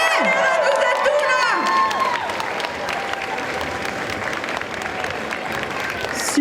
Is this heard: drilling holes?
no